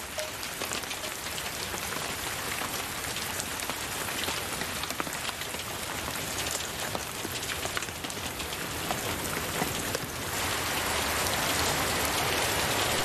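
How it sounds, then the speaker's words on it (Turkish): Steady heavy rain falling on surfaces at the start of the rainy season, a dense unbroken hiss that stays loud throughout and swells slightly near the end, with no voices. "Yağmurlar başladı."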